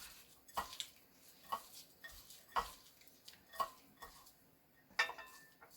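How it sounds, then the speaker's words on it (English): Intermittent clinks and scrapes of a spoon against a bowl while mixing pakora batter with roasted cumin, about five sharp knocks roughly a second apart over quiet stirring, faint and close. "Then I'm gonna mix it"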